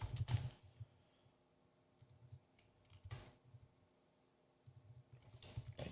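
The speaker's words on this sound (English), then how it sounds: "My typing is terrible." Someone types on a computer keyboard in short, quiet bursts of clicking keys, separated by pauses, close by in an otherwise still room.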